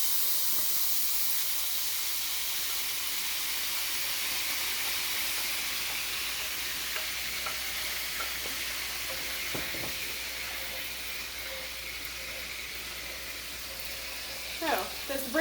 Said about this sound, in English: Well, it's already boiling pretty quickly.